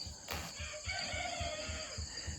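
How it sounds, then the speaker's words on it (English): A rooster crows in the background, a drawn-out call over a steady low thumping rhythm and ambient noise, heard while working on a Farmall A tractor's PTO. "you're going to probably hear a rooster crowing in the background"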